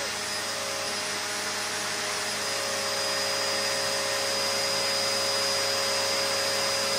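A vacuum pump drawing air out of a jumbo space saver storage bag gives a steady, unbroken whirring drone at close range, holding the same pitch throughout with no talking.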